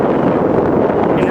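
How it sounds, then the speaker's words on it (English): Blizzard wind buffets the microphone beside Highway 21 in Kincardine on a cold February day, a loud continuous rumbling gust across the whole brief moment. "it's cold and windy, and we're in the middle of a blizzard"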